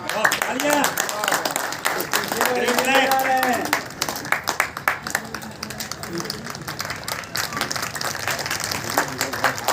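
Audience applause at a Hindi-language public function, a crowd clapping steadily through the first few seconds and then thinning, with someone speaking over it throughout.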